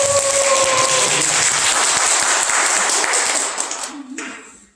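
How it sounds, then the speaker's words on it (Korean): An audience at a Korean priest's special lecture breaks into dense, loud applause that holds steady for several seconds and then tapers off quickly. "박수 많이."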